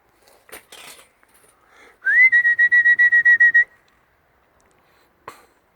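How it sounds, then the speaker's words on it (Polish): Someone whistles close by to train birds circling over a dovecote, one loud steady whistle pulsed in quick repeated bursts for about a second and a half, with a few faint clicks and rustles around it. "Jeszcze nie są nauczone chodzenia na gwizdanie."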